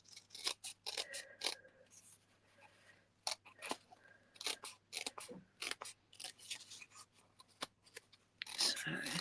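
Scissors snipping through two-tone cardstock in quick irregular cuts, crisp close clicks and rustles of paper at a soft level, with a louder rustle near the end.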